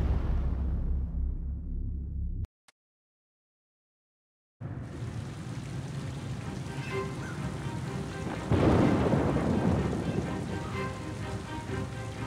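Stormy night from the Oceanhorn 2 video game: steady rain with rolling thunder, a sudden silent gap, then heavy rain returns and a louder thunder swell builds near the end.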